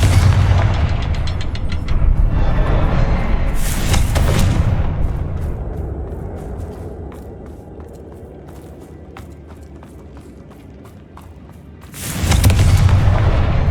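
A Confringo blasting spell explodes in Hogwarts Legacy with loud, booming detonations. Big bursts come near the start and again at the end, with footsteps and scattered game effects in the quieter stretch between them.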